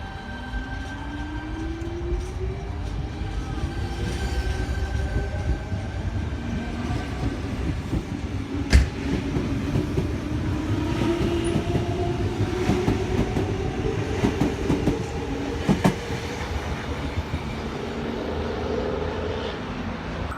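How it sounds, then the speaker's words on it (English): A Sydney Tangara passenger train departs a station platform at Thornleigh, a loud continuous rumble with a slowly rising motor whine, rail clatter and a few sharp clanks as it pulls away. "Just departing platform 3 is a Tangara."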